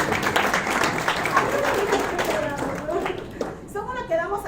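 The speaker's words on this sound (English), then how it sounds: "let's clap for that." Applause rises from a convention and festival audience, mixed with voices and some chatter throughout, with the clapping fairly steady and fading slightly near the end.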